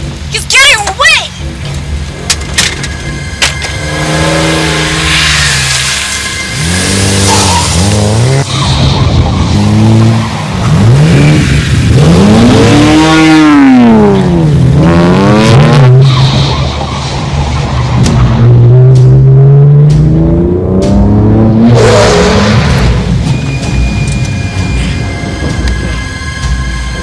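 Car chase with tires squealing and skidding in long sweeping wails, engine revving hard as the car accelerates away, loud and close, with shouting voices in between.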